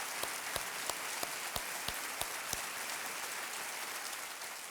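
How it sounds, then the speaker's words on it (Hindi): A studio audience at the Kaun Banega Crorepati quiz show claps, sharp evenly spaced beats standing out at first before melting into a dense, steady wash of applause. "एक बार फिर तालियों के साथ"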